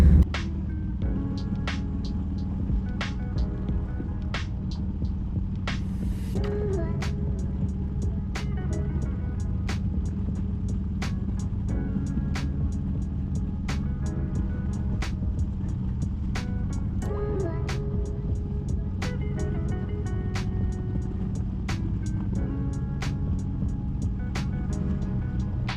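A car driving through St. Cloud, heard from inside as a steady low engine and road hum with repeated light clicks and taps throughout, no talk.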